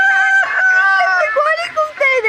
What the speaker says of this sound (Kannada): ಕೋಳಿ ಕೂಗ್ತಾ ಇದೆ ನ್ಯಾಚುರಲ್ ಆಗಿ